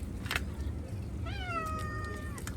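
A single drawn-out cat meow, clear and fairly close, rising then falling over about a second, with a steady background hum and no talking.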